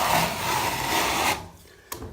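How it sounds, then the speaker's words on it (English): A steady, close rasping scrape runs as cornice cement sand finish is taken off a painted plasterboard wall, then stops abruptly, leaving near quiet broken by one short scrape. "Finish scraping the rest off, and that'll be it."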